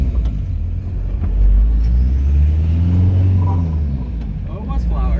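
An engine-swapped car idles with a low rumble, then revs and pulls away, the engine note rising and staying steady nearby while people talk over it.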